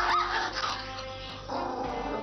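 A dog gives a few yipping barks mixed with whiny whimpers, close to the microphone and fairly loud, in short bursts over a couple of seconds.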